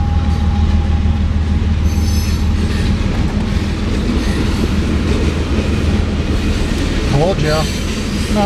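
CN freight train locomotive rolling past close by, a loud continuous rumble of wheels and engine with squealing rail tones rising toward the end.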